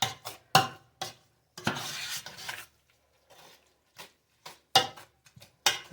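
Potato pancake batter stirred in a bowl with a utensil, seasoned with a little nutmeg, in short scraping, knocking strokes with brief pauses between them and no talking.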